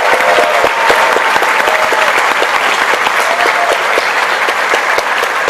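Loud, dense applause from an awards-gala audience in New York City, many hands clapping steadily and continuously at close range with no break.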